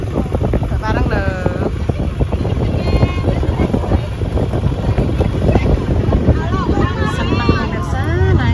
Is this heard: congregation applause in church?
no